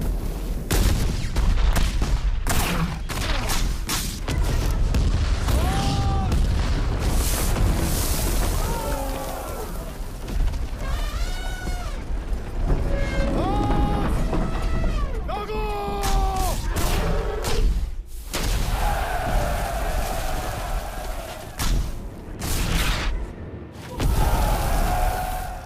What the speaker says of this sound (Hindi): अपनी तोपें दागो इन पे।